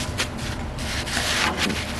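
A tool rakes and scrapes stiff Bondo body filler into a hole in a rat rod roadster door panel. The close, rough rubbing strokes repeat several times, with no voices.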